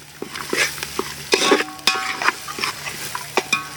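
Ginger garlic paste sizzles in a hot pan while a spoon scrapes and taps against the metal in short, irregular strokes, close and fairly loud.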